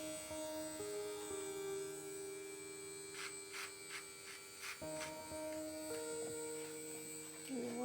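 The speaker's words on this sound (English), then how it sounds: "you can do that clipper over comb or trimmer over comb and blend in that edge" An electric hair trimmer buzzes close by during a child's haircut, a steady tonal hum that shifts pitch as the blade meets hair, with brief soft talk underneath.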